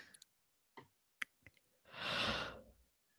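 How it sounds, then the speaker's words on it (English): A quiet yawn, a breathy drawn-out exhale of about half a second, follows a few faint clicks in an otherwise silent room. "Was that a legitimate yawn or a once upon a time yawn?"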